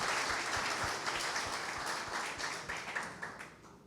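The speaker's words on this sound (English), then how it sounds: "let's give another round of applause for Parkview and everything that" Audience applause at a fundraising brunch, a dense spread of clapping from a roomful of people that starts strong and slowly tapers off over a few seconds.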